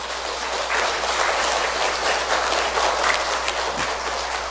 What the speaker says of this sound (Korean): 첫째는 우리 예수님께 박수를 드려야 되겠죠.